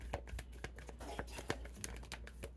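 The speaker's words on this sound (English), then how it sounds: "Cards don't want to come, like they're hard to shuffle today." Playing cards being shuffled make quiet, close-up crisp riffling and flicking clicks in irregular quick bursts.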